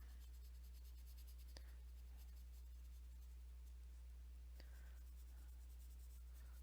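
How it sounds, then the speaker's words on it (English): Colored pencil scratching steadily on a coloring book page, a soft continuous writing sound over a low steady hum, with a couple of faint clicks. "coloring something in a coloring book with all of these pencils"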